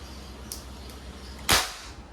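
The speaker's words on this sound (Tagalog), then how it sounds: "testing 1077 freestyle, semi-automatic, CO2 powered. Firing." A Crosman 1077 Freestyle semi-automatic CO2 airgun fires one sharp, short crack, preceded by a faint click, against quiet surroundings.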